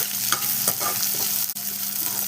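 Five green chillies sizzle in a hot pan with oil for beetroot stir-fry, a steady crackling fry broken by a few scraping stirs and a sharp clink.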